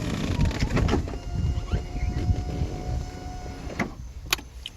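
Power soft top of a 2004 Honda S2000 convertible operating, a steady electric motor whine with mechanical clicks and rustling creaks, heard close up inside the car.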